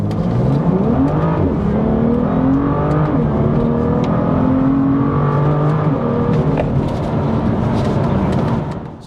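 BMW M2 on Michelin PS4 tires launching hard in Sport Plus, engine revving loud and close with rising pitch sweeps broken by a few quick manual upshifts near 6,000 RPM.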